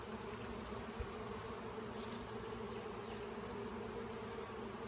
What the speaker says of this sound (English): And there's a lot of bees flying.